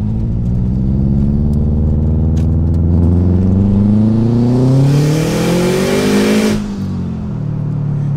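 A 2006 Subaru WRX STI fitted with an external wastegate accelerates hard, its engine note climbing steadily through the revs up close before cutting off abruptly and dropping to a lower idle-like drone.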